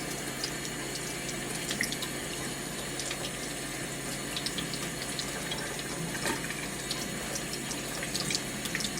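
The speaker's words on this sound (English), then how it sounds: "run water through here and rinse this out" Steady running water rinses ink from a printer service-station wiper module on a QL-240 or Trojan 1 label printer, a continuous close tap-like splash and gush with no talking.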